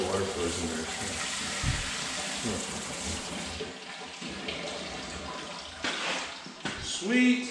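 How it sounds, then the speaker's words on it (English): Water runs steadily from a newly installed kitchen faucet, a continuous loud rushing hiss that shifts in tone partway through, with people talking over it. "Look at the water flows"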